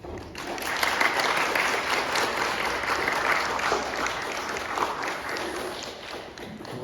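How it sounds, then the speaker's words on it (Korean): Dense, steady applause from a church congregation welcoming a pastor to the front, filling the room evenly for several seconds without pause. "목사님 나오실 때 힘찬 박수로 맞아주시기 바랍니다"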